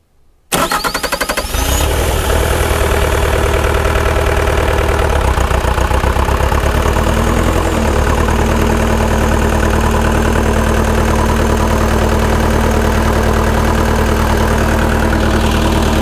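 A neglected Bobcat T595 skid steer's diesel engine cranks briefly, catches and settles into a steady, loud, close idle that runs unbroken for the rest of the span, with no talking.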